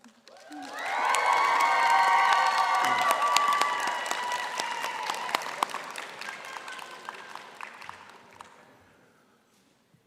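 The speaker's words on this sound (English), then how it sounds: "Graduates, shall we give a cheer to celebrate your family and friends who have joined us today?" Graduates and their audience at a university art practice commencement cheer and applaud, a loud swell of clapping and shouts rising within a second, holding for several seconds, then thinning to scattered claps before fading out.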